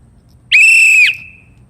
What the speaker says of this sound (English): I'm going to blow a whistle really loud and see if you can hear it